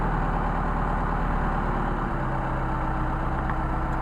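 A Mercedes 190SL engine with Solex carburetors idles steadily and fast, above 1,000 rpm, a continuous low rumble close up, with no talking.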